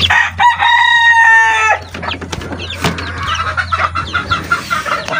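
A Talisayin gamefowl rooster gives one loud, close crow, followed by clucking and bird noise from the farmyard.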